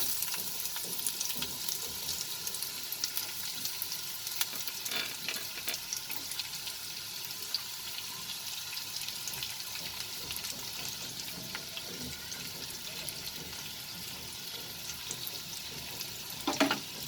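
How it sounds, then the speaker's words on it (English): Red chilies, chopped garlic and sliced onions sauté in a pan of hot oil, giving a steady, soft sizzle with occasional stirring scrapes, close and even throughout. "I will saute this for some time."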